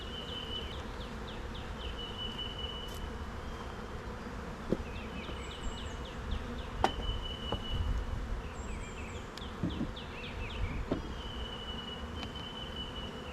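Steady insect buzzing from many honey bees around an open hive, a dense continuous drone with occasional louder passes as individual bees fly close.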